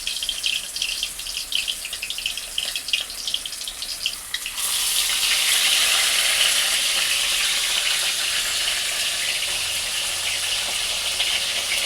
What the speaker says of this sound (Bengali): মাছের পুরটাকে পাতায় দিয়ে মুড়িয়ে একবারে কড়াইতে মা দিয়ে দিচ্ছে